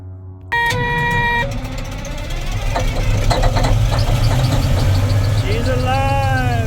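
A diesel engine, just repaired, cranks over with a whine, catches and settles into a loud, close, knocking idle that runs steadily, while voices talk over it.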